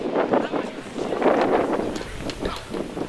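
Strong wind roars steadily past an outdoor microphone at a pro wrestling event, a broad, constant rush that stays loud throughout with faint crowd or voices mixed underneath.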